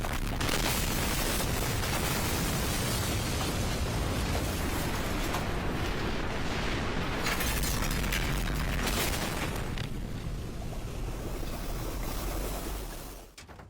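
A long, roaring explosion rumbles loudly and continuously, then begins to fade away near the end.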